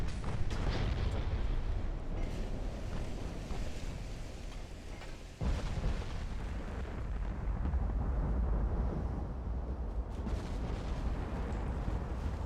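Naval battle in Ultimate Admiral: Dreadnoughts, with battleship guns firing and 9-inch shells hitting, heard as a continuous dense rumble of booms and blasts, loud throughout with one brief dip midway.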